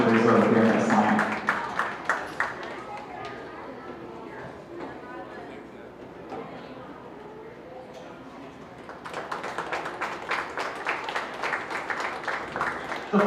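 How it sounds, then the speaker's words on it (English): Crowd applause for exhibitors at the 2024 Belmont County Fair open class beef show swells loudly at the start, thins out under an announcer's talk, then rises again as a steady patter of many hands in a large show barn. "let's give these exhibitors a nice big round of applause"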